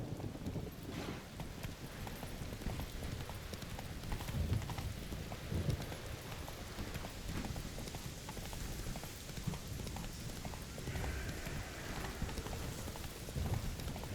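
Horse hooves clip-clopping at a steady trot in The Witcher 3 video game, continuous rhythmic hoofbeats over a dense bed of wind and rain-like ambience, moderately loud throughout with no speech.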